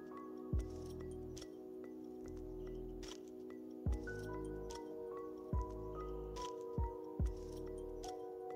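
Rice is rinsed by hand in water while making Hyderabadi chicken dum biryani. Quiet squishes and drips are broken by about six sharp clinks and knocks against the vessel, over a faint steady tonal hum.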